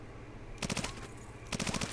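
Automatic gunfire in the video game Ghost Recon: two short rapid bursts of shots, loud and close, separated by a pause, with no talk.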